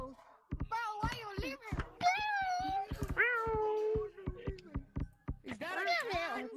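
A cat meows several times in drawn-out, wavering cries in Gorilla Tag, close and loud, with a person speaking and mimicking meows between them.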